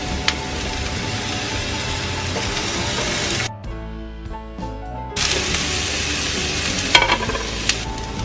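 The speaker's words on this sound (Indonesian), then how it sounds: "ini setelah cukup panas, kemudian bakar terong" Eggplant slices sizzle and fry in a hot pan with a little oil, a steady close crackle that briefly drops away, then resumes with an occasional sharper pop.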